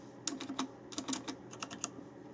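Keys being pressed on a Logitech G910 Orion Spark mechanical gaming keyboard: a quick run of about a dozen close, crisp clicks in two bursts, quiet and without speech.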